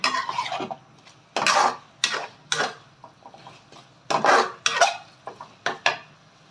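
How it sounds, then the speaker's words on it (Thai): Minced pork with seasoning paste is stir-fried in a pan, bursts of scraping and clattering spatula strokes coming in irregular clusters with pauses between, close and moderately loud, no talk. "ก็จะผัดเรื่อยๆ ไปจนแห้งค่ะ"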